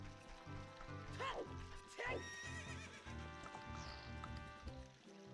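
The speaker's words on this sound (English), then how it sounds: "Horsey." A horse in the video game Ocarina of Time gives two bright, quavering neighs over a steady clip-clop of hooves, with game music running beneath.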